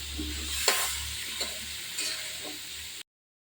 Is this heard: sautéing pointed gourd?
yes